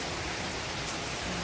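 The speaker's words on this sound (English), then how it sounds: "Rain, rain, go away." Steady rain soaks a Florida garden of orchids and succulents, a dense even hiss of drops filling the whole moment without pause.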